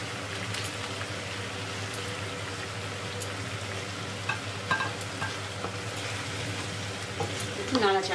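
Spicy Bengali-style chicken lollipops frying in a pan with tomato sauce, a steady close sizzle with scattered clinks and scraping stirs toward the end.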